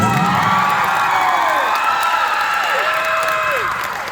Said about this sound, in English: another round of applause for this year's top officers.